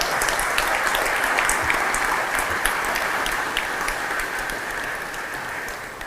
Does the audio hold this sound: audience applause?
yes